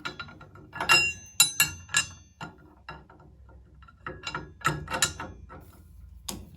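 Wrenches loosening the nut on a table saw blade arbor, a busy run of close metallic clinks, ratcheting clicks and scrapes in irregular bursts.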